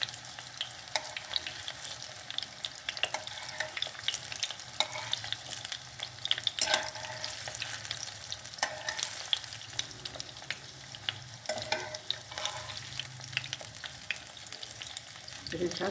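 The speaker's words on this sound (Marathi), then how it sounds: "तेल फ्राय करून घेऊया आपण." Hara bhara kebabs fry in hot oil with a steady, close sizzle and crackle for the whole stretch, punctuated by occasional scraping clicks as the pieces are turned with a spatula.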